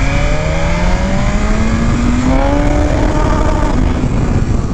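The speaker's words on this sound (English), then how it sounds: "I think it's because of the rev limiter." A sport motorcycle engine, one of an S1000RR, V4S or R1M, held high against the rev limiter: a loud, close, steady buzzing drone with pitch wavering slightly for several seconds.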